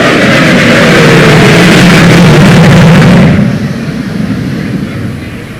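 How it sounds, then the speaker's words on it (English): A B-1 bomber with turbofan engines roars loud and close in afterburner during a low right-hand turn over an air show crowd at Pensacola Beach, a thundering rumble that cuts off abruptly to a quieter, fading drone. "There you go, going afterburner and a little right-hand turn over the crowd, off to the west."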